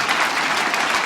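A stand-up comedy audience claps steadily for about a second, a dense, loud burst of applause filling the room with no voices over it.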